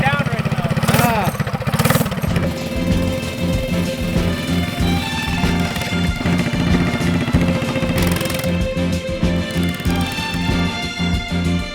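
A small minibike engine running rough and bogging down, its uneven sputtering drone loud and close, with a person talking over it.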